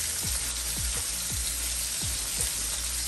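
A little butter sizzles in hot oil in a pan while seafood fried rice is being cooked. A steady, loud frying hiss runs throughout with a few soft low knocks, close by and with no voices.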